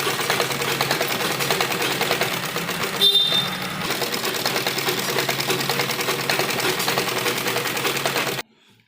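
A sewing machine runs a long basting stitch along a folded seam of an embroidered, lined suit, giving a loud, steady rapid rattle that pauses only briefly before stopping abruptly at the end, with no voices.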